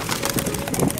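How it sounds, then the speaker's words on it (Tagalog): Lovebirds at a bird feed shop give short, overlapping chirps and coos in a dense, steady chatter that fills the whole moment, close and fairly loud. "Ang daming lovebirds dito sa bilihan ng Patoka."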